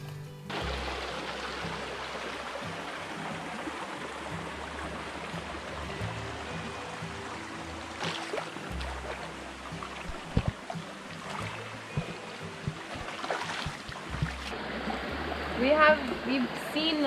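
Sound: river flowing upstream in Guam

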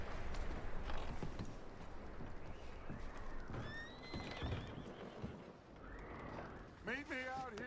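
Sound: horses neighing and walking

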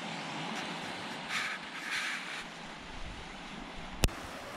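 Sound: sea waves on the shore

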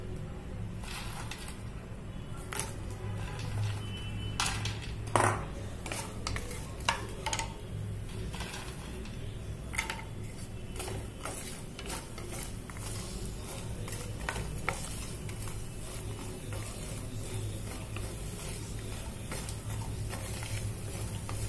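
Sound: fox nuts (makhana) roasting in ghee

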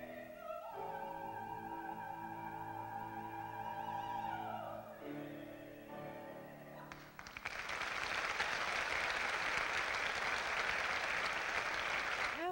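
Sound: crowd giving a standing ovation after an opera performance

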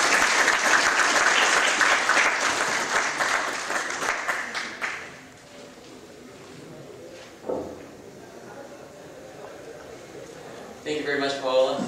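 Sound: audience applause for conference speakers

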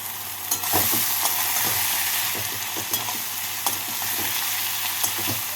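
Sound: radish greens being stirred while frying in a pan

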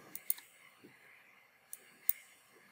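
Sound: computer mouse clicking

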